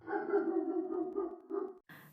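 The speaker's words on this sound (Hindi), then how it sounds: "दूर कहीं कुत्तों के भौंकने की आवाज आ रही थी" Dogs bark far off along a nearly deserted street at night, heard as a faint, drawn-out, howling bark that lasts almost two seconds, alone with no talk.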